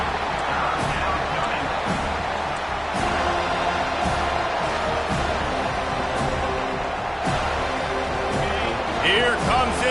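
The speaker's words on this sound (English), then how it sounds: "Here comes his home crowd as the defense tries to get off the field on third down." Home crowd roaring steadily at a football game on a third-down defensive stand, a loud sustained wash of cheering throughout with a commentator talking over it.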